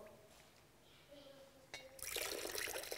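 An upturned drinking glass holding trapped air is pushed down into a bowl of water, giving faint clinks and a brief knock before a loud burst of splashing and bubbling in the final second, with a voice talking quietly beforehand.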